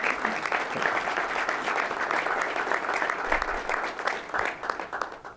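An audience at a business unveiling at the DC Convention Center claps for honored guests, a sustained wash of applause at moderate level, swelling and thinning slightly toward the end.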